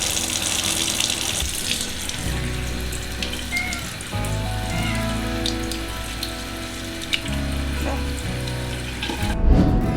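Tap water runs steadily into a bowl to soak dry poha rice, a continuous close splashing stream with shifting tone as the vessel fills, no talk, cutting off near the end.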